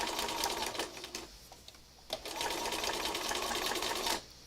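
A sewing machine stitches fabric scraps together in two steady runs of rapid mechanical whirring, separated by a short pause, close and continuous before stopping abruptly.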